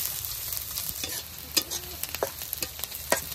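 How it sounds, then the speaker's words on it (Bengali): Onions and green chillies fry in oil in a wok over a village stove, crackling under sharp, irregular metal scrapes of a stirring spoon; no talk. "কড়ার উপরে তেল দিয়ে দিল এখন দিয়ে দিলাম পেঁয়াজ কাঁচামরিচ"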